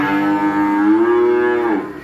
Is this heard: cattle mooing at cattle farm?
yes